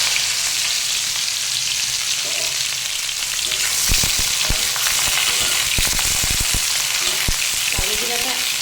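Black cumin seeds hit hot oil for a vegetarian Bengali dish, with a loud, continuous sizzle and sharper pops and crackles building up close.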